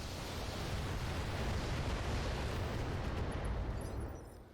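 Precision strike explosion in the BattleTech video game, a long roaring blast that rumbles heavily and steadily for several seconds before fading at the end, loud and close with no talking.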